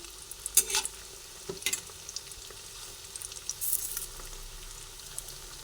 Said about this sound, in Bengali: একটা দিক ভাজা হয়ে গেছে তাই জন্য আমি সব কটা কোপ্তাকে উল্টে দিচ্ছি